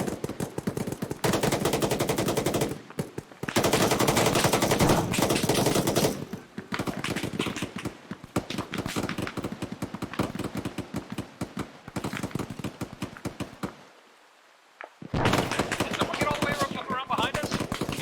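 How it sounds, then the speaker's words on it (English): Gunfire in the military shooter ArmA 3: dense, rapid automatic bursts of rifle and machine-gun fire crackling in long volleys with brief pauses and one short lull, with voices talking over it. "Sounds like enemy fire southwest."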